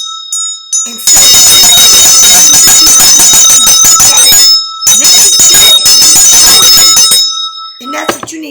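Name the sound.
bell being rung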